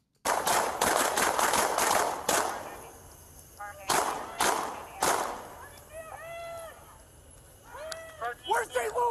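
A rapid volley of loud gunshots rings out in bursts during a police shooting, followed by shouting voices and scattered further shots.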